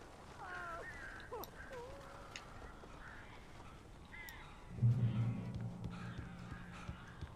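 Birds in the Alan Wake video game call out with several squawking, quacking cries spread across the moment, followed by a low honking burst, faint under a dim background.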